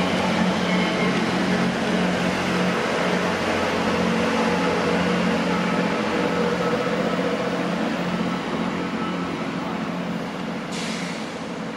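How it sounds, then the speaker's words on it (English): A GWR Class 165 diesel multiple unit, a short two-car train, pulls away from Keynsham station toward Bristol Temple Meads, its steady broadband rumble and engine drone continuous and fairly close throughout, fading slightly at the end. "Quite a short train."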